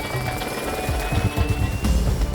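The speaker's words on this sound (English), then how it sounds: "We're gonna have this helicopter behind me painted as a Miami-Dade police helicopter, going pretty low level right down the freeway" A helicopter flying low along a freeway during a film shoot, its rotor producing a continuous rumbling thump beneath a steady high whine, fairly close and loud throughout.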